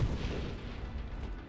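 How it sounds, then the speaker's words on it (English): Big, booming explosions in the space shooter game Nova Drift roll continuously with deep low rumble and dense bursts, loud and sustained without any talking. "Big explosions."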